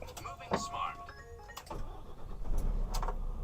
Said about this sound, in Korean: 자 시동 한번 걸어봐 드리겠습니다